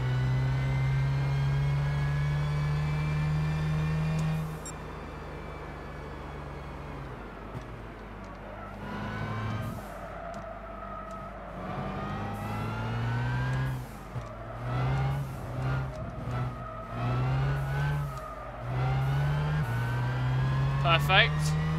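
Gran Turismo 6 race car engine revving and shifting repeatedly at Silverstone, rising and falling whines, while a person talks over it.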